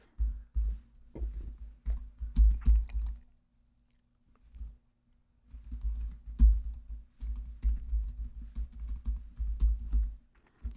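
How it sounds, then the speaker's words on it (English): Close, quick keystrokes come from a computer keyboard while entering text in an Excel spreadsheet. They arrive in clustered bursts with a short pause in the middle and no voice. "so I'll just continue to type it"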